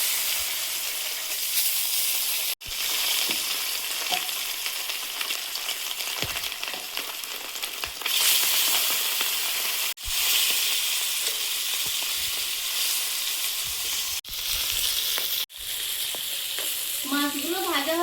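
Bhola fish frying in smoking hot oil, a loud, dense, steady sizzle with occasional stirring and brief breaks, close up, with no talking.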